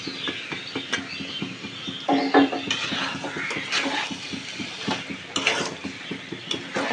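Spiced, pan-fried rohu fish goes into a pot of potatoes and is turned over with a utensil. Clinks and scrapes of metal against the pot repeat in an uneven rhythm, close and fairly clear, with no voices.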